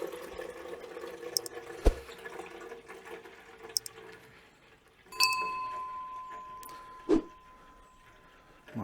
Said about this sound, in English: So that's clearing out the beer that's been in those lines.